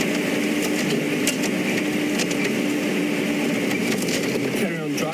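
A safari vehicle's engine runs steadily while driving through a thicket, a continuous near rumble with scraping brush noises, and a voice talking over it.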